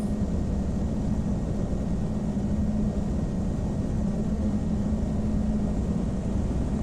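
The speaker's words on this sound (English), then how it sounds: "Going to do a rolling takeoff" A twin-engine Piper PA-34 Seneca rolls into its takeoff in Flight Simulator X, a steady droning engine roar with a low hum, constant and fairly loud with no voices.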